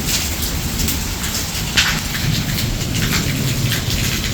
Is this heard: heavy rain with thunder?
yes